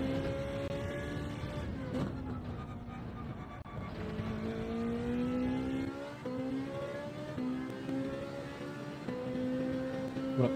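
A race car engine at Monza in Gran Turismo 7 drones steadily, its pitch rising through the gears and dropping in several downshifts for the Lesmo corners, loud and close throughout.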